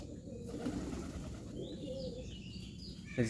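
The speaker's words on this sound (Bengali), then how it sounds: "আঠেরোটা পায়রা আছে এখন বড় পায়রা" Pigeons coo softly on a rooftop, low repeated calls over a steady hiss of outdoor ambience, with a brief flutter or tap at the end.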